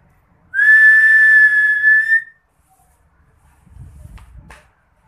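A single clear, sustained whistled note rises slightly and holds for about two seconds, followed by a few soft shuffling footsteps.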